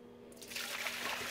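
Milk poured into a pot for making queso fresco, starting after a brief quiet moment as a steady, close splashing rush of liquid that continues to the end.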